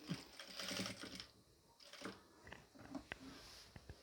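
A sewing machine stitches the folded-up bottom hem of a nightie in short, close, uneven bursts, with brief pauses and small mechanical clicks between runs.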